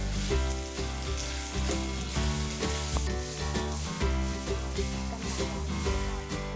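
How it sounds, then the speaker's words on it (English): Cooking oil sizzles steadily in a hot pan on a stove as a Hakka vegetarian stir fry begins, a continuous close frying hiss with many bright crackles throughout and no talking. "First turn on the stove and add some cooking oil."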